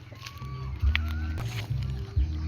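Ducks and chickens being herded on a Thai farm give out several short quacks and clucks at close range, mixed with brief splashing and shuffling, with no clear talk.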